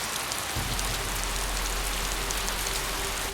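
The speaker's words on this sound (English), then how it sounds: "At some point it had begun to rain, but I couldn't move at all." Steady rain falling in a forest at night, a dense, even hiss that holds unbroken throughout with no voices.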